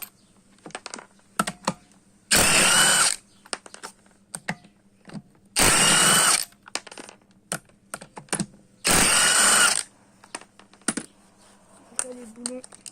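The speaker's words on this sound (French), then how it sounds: "On dévisse les 4 boulons et normalement ça doit être bon." A ratchet unscrews the four brake caliper bolts on a SYM Lander 250 cc quad, with three loud bursts of rapid clicking separated by quieter scattered metallic taps.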